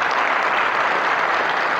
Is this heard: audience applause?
yes